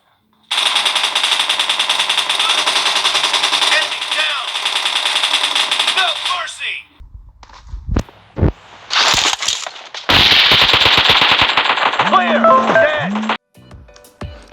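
Gunfire from the PUBG mobile game played on a Samsung Galaxy M31 phone: loud sustained automatic fire for about six seconds, then scattered shots and bursts, and another dense volley near the end.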